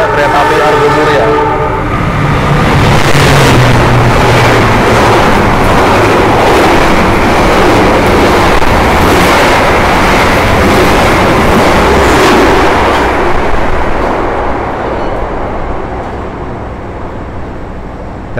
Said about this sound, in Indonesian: Dan tadi itu keretanya melintas sekitar 120 km per jam ya